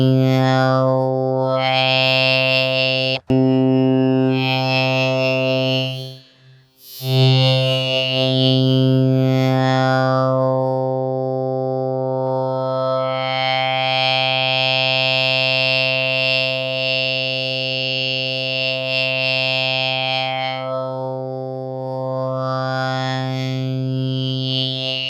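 Groove Synthesis 3rd Wave synthesizer playing a sustained wavetable tone whose timbre shifts as the wave envelope sweeps, a loud buzzy, harmonically rich drone with a brief dropout, cycling brightness changes throughout.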